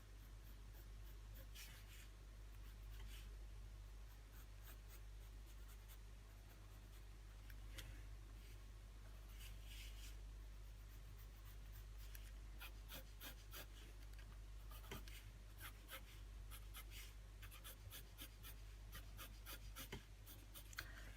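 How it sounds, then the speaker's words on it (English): A sharp pencil scratching across paper while drawing an anime figure, a faint continuous scratch with scattered soft stroke ticks, quiet and close over a low background hum. "I'm actually gonna switch pencil to a much sharper one to draw the cheek"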